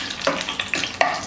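Dry red chillies and chana dal fry in three tablespoons of hot oil for an Andhra-style lemon rice tempering: a brief, soft crackle broken by a few quick stirring scrapes.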